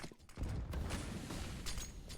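Grenade blasts in a Counter-Strike match go off as several heavy, booming bursts with rumbling low end and crackling debris, overlapping in quick succession amid game noise.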